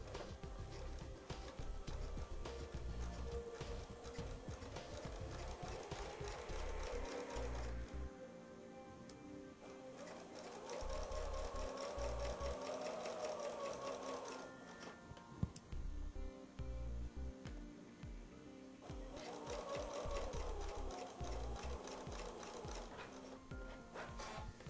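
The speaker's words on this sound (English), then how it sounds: "So make sure that you have your presser foot down and you can start sewing" A sewing machine stitching a zipper with a zipper foot, running in three steady bursts of rapid mechanical ticking separated by short pauses, close and fairly quiet, with no talking.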